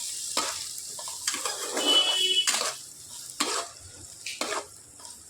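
Onions stirred in hot oil with cumin and mustard seeds sizzle steadily, broken by repeated scraping strokes of a spoon against the pan, close and fairly loud with no talking.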